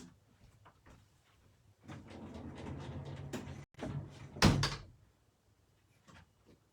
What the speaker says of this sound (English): let me shut my door over here